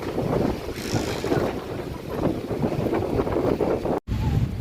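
An afternoon breeze blows steadily outdoors at Taft Avenue near Luneta Park, rushing across the microphone in a continuous low roar with a brief cut near the end.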